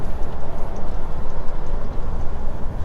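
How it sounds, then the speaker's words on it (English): A lorry rumbles past close by, a steady loud low-frequency engine and road roar that holds throughout with no talking. "It's another lorry."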